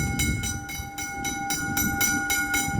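Two trains meeting and passing at Dandenong, a loud close rush of railcars with rhythmic clatter pulsing about every half second and a sustained horn tone running over it.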